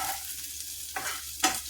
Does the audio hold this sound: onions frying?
yes